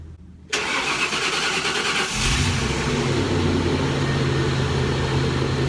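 A 1953 Ford F250 truck engine cranks loudly for about a second and a half, then catches and settles into a steady, rumbling idle close by.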